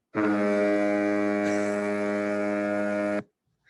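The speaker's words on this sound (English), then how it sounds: "Let's go with a foghorn." A deep, steady foghorn blast sounds loudly for about three seconds, then cuts off abruptly.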